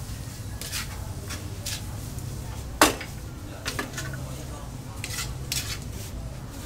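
A utensil stirs and mixes food in a pot for a Zambales spalog dish. Scattered light clinks and scrapes sound against the metal, with one sharper knock partway through, over faint room noise.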